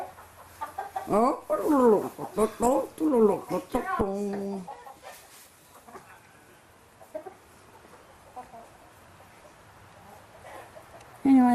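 Chickens cluck inside a chicken house, a burst of close, busy calls early on that fades into quieter scattered clucks, with a person's brief exclamation.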